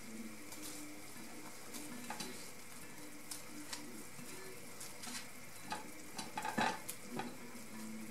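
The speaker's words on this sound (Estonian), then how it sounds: "Sibul porgandid praetud läheb sisse siia." Fried onions and carrots go into a pot of simmering potato cheese soup, giving a soft continuous sizzle and bubbling with scattered stirring clinks and scrapes, close by with no talking.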